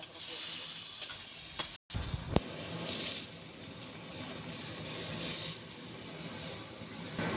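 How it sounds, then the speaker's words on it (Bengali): Chutney ingredients, tomato and tamarind among them, fry lightly in oil as they are stirred. A soft, continuous hissing sizzle runs throughout, broken by a brief scrape partway through. "তো এইগুলো সব ভেজে নেবো হালকা, একটু সামান্য নাড়াচাড়া করে দেবো।"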